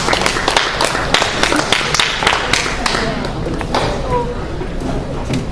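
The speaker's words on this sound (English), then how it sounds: "Please give her a round of applause." Audience applause at an open mic night as a poet is introduced, a close, steady patter of clapping hands lasting several seconds and gradually thinning out.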